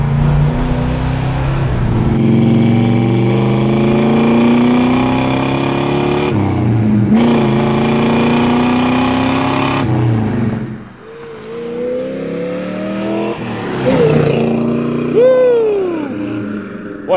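A 1969 Plymouth Road Runner engine drones and revs up and down in long surges, loud and close, ending with rising and falling engine pitches as it idles and revs again.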